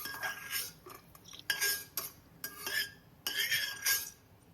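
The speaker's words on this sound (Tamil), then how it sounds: "இதில் ஒரு 7-8 முந்திரி பயிறு வச்சுருக்கேன்." Cashews roast in ghee in a kadai while a metal spoon stirs them. Quiet, irregular scrapes and clinks of the spoon against the pan come in short bursts about every second, with no talking.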